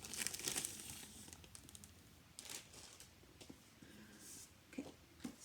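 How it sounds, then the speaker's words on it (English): A book in a little plastic baggie is pulled free during a subscription box unboxing, with soft close crinkling and rustling of the plastic in quiet bursts, fairly faint and without talk. "I'm going to take it out of its little plastic baggie"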